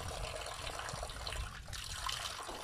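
Mineral water from the Fontenova spring, one of the most mineralized in Spain, pours and splashes in a steady, close, continuous rush with no voices.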